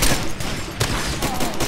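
Gunfire from Far Cry 2 played on a PlayStation 5 fills a short moment with a dense, loud volley of rapid shots, one sharper blast standing out from the rest.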